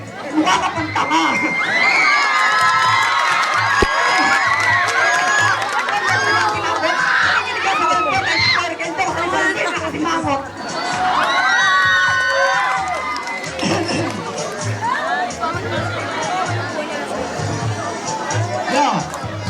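A rap battle crowd shouts, cheers and whoops loudly and almost nonstop, dipping briefly before surging again, with excited chatter throughout.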